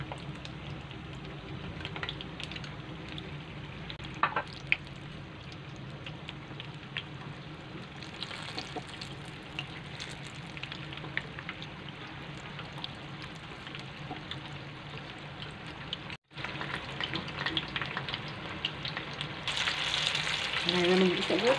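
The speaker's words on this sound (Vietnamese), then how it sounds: "Chiên lần 1 đây các bạn." Hanoi spring rolls (nem) deep-frying in hot oil on their first fry, giving a steady, fairly close sizzle and bubbling crackle with occasional clinks, a brief break near the end, then a louder, harsher burst of sizzling.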